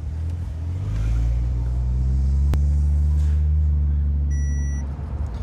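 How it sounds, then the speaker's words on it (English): Ford Falcon XR6T 50th anniversary edition with the turbocharged Barra inline-six and a 4-inch exhaust, rumbling loud and close with a deep, steady idle drone that swells slightly mid-way, alone without any voices. "That 4-inch exhaust, ooh, sounds meaty, I like it."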